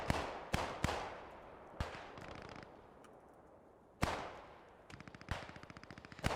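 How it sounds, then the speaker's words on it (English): Mortar and small-arms fire in the World War II shooter Post Scriptum: a string of sharp, loud blasts and cracks, some in quick bursts, with a couple of heavier impacts standing out over rattling gunfire. "And here come a couple of mortars now."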